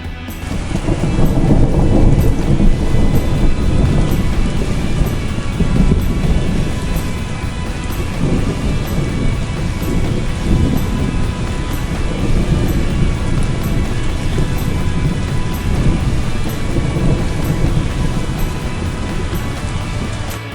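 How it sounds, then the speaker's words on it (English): A heavy thunderstorm with pouring rain, a dense steady roar of downpour and low rumbling thunder filling the whole stretch at high, constant loudness with no voices. "And here it was, pouring rain."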